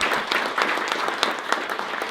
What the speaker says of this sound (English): join with me in giving our state delegation a round of applause